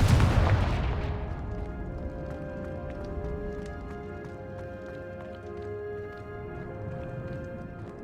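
The Confringo explosion spell in Hogwarts Legacy goes off as one sharp blast that fades into a lingering rumble over a steady background hum.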